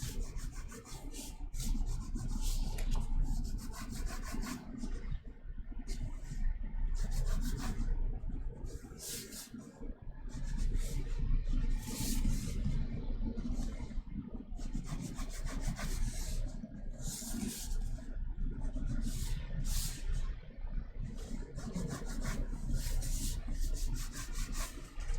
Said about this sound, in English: Let's kind of draw through this just a little bit.